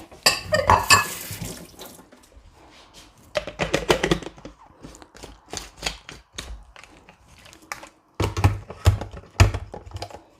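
Water splashes and pours in short bursts into a bowl while a pork marinade is being mixed, with clattering handling noises in between, close and moderately loud.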